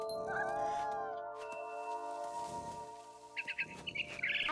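Frightened bird in the video game What Remains of Edith Finch, giving bursts of high chirps and tweets toward the end over a steady tonal game ambience and music bed.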